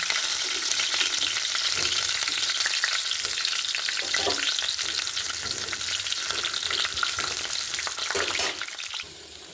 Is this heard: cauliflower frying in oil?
yes